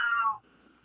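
A cat gives one short, close meow that fades within half a second and leaves near silence.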